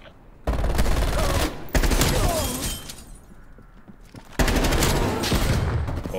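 Groza assault rifle fire in Call of Duty: Black Ops Cold War: loud, close bursts of rapid automatic gunfire in three long strings separated by brief gaps, with faint background noise between.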